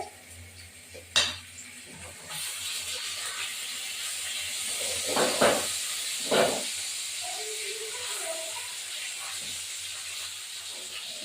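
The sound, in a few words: fish frying in pan, being flipped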